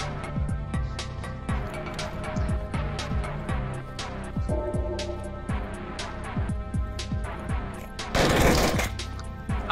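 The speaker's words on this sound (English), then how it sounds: "This thing's so short range, this submachine gun." Submachine gun fire in the VR video game Onward, dense crackling bursts of rapid shots with sharp repeated cracks over a steady rumble and a louder noisy blast near the end.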